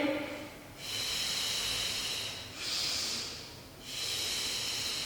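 Breathing during a Pilates exercise: three long, steady airy breaths with short pauses between, close and fairly soft, with no talking over them.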